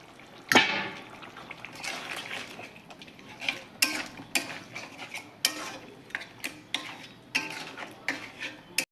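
Meat goes into a pan of fried spice masala and is stirred, with a sharp initial clatter followed by repeated scraping and clinking of a utensil against the pan over a soft sizzle.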